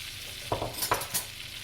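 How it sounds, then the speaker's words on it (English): Sugar and butter browning in a pan for a sweet and sour chicken sauce, a steady soft sizzle broken by a few short scraping stirs, close and alone. "I'm going to brown some sugar and butter."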